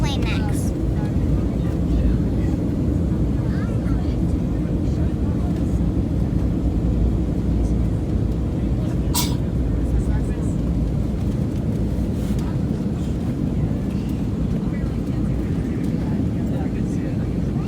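Steady loud roar of an airplane cabin during the takeoff climb and a banking turn, a continuous low engine and airflow rumble throughout with a few faint clicks and brief sounds on top.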